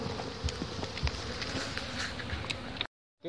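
Honey bees buzzing around a hive during beekeeping, a dense continuous hum of many insects close by with light rustling, no talking, then cutting off abruptly near the end.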